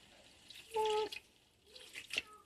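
About half a cup of water is poured into a cooking pot while making taco hotdogs: a short, faint trickle and splash, followed by a few scattered drips, heard up close and alone.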